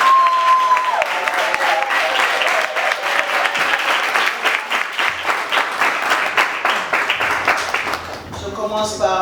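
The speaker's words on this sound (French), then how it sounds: "On applaudit s'il vous plaît." Wedding guests at a civil ceremony applaud loudly and steadily after the rings are shown, with a tone sounding under the opening and a voice speaking as the clapping dies away.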